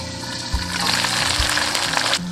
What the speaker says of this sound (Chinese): 然后另外一面煎至1分钟就可以了